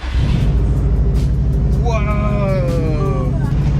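A widebody Subaru STI idles with a deep, loud, steady engine rumble that runs throughout, while people talk excitedly over it.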